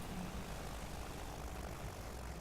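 Airship engines run in the video game Worlds Adrift, a faint continuous propeller-like drone and rumble with no voices.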